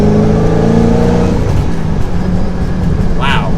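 A 2005 Ford GT's engine revs loudly and continuously while driving, its steady, throaty drone shifting in pitch as the car accelerates.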